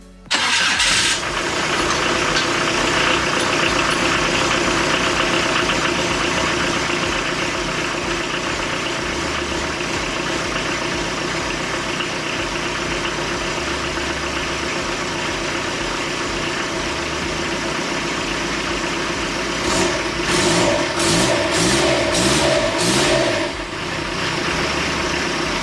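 A diesel right-hand-drive Jeep Wrangler TJ with a newly fabricated exhaust cranks and fires, then settles into a steady, loud, close-up idle, with a few revs near the end.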